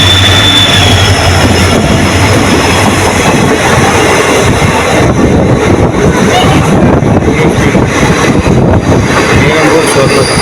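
A train on the Nilambur–Shoranur line rushes past at speed with a loud, continuous rumble and rattle throughout. Voices are faintly audible under the noise.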